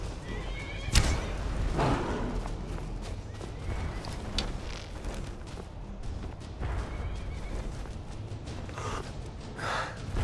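A horse whinnies loudly near the start amid a dense rumble of hooves and snorts in the video game Skyrim, with another neigh later, all fairly close.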